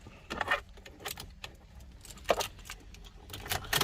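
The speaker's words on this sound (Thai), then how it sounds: "เสียบกุญแจนะครับ" A metal key jingles on its ring and scrapes as it is pushed into the ignition of a Mazda2, a few close, bright clinks and rattles in short bursts.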